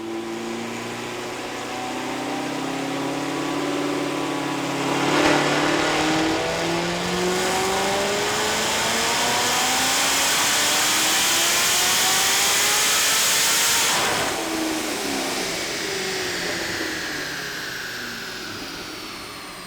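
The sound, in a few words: 1000hp Procharged C7 Corvette engine during a dyno pull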